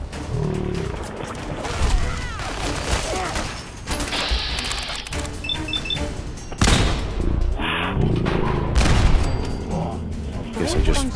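Gauss rifle fire in Fallout 4's Nuka World, loud sharp blasts cutting through a busy firefight of gunfire, creature roars and game noise, with sudden bursts near 6.5 and 8 seconds.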